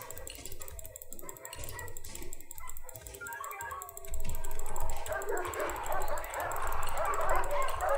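Dogs bark, yip and whimper inside the Prison Architect video game during an escape mod session, with keyboard typing clicks throughout and a louder, denser burst of game noise in the second half.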